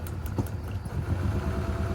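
A cheap, worn Honda Accord engine idles nearby with a low, uneven rumble and a few faint clicks, heard quietly on its own.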